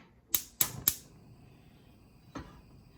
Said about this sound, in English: I will go ahead and turn on the heat.